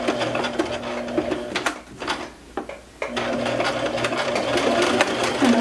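A sewing machine stitches a hem on track pants, a steady mechanical whir that pauses briefly in the middle before resuming, close and moderately loud with no talking.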